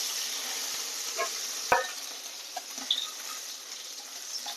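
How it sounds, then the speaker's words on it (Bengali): Singhi fish frying in a pan, a faint steady sizzle running throughout with a few soft clicks and one sharper tap near the middle. "মাছটাকে আমি এখন উল্টে দিই। ভালো করে উল্টে পাল্টে ভেজে নেবো।"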